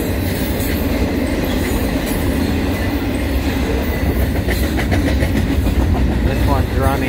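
A CN intermodal freight train passing eastbound in Montmagney, Quebec, with a loud steady rumble of wagons and rhythmic wheel clatter throughout, plus faint wheel squeal near the end, heard up close.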